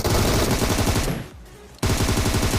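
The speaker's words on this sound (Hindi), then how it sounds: "और भाई कोई और भी फायरिंग कर रहा है जो कि मेरे को दिख चुका है सामने पहाड़ी पे।" Rapid video game gunfire in an online shooter rattles out in loud, dense automatic bursts, pausing briefly in the middle before resuming at full intensity, with no talking.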